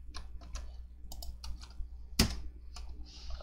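Someone types a command on a computer keyboard: a quick, irregular run of close plastic key clicks with short pauses and one sharper, louder keystroke near the middle, no talking.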